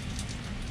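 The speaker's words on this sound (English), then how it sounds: "the rain is just starting to pick up a little bit again" Rain falling outside an RV during Hurricane Dorian, a steady broadband hiss picking up again after a lull, constant and fairly loud with no voices.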